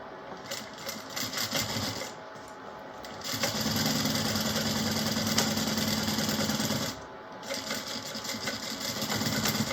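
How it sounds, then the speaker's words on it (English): A sewing machine stitches a bag seam with a very scant quarter-inch allowance, running in a steady, close mechanical whir that rises loud through the middle and trails off, with brief starts and stops around it. "we're going to sew that on with a very scant 1/4 inch seam allowance"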